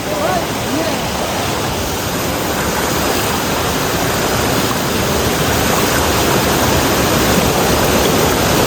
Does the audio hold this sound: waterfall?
yes